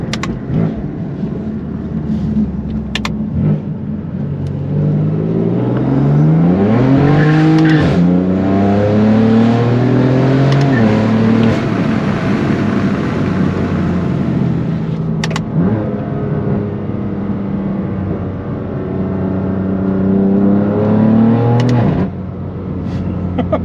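A car engine revs and accelerates loudly, pitch climbing through several surges, with a steady rumble between pulls and no talking.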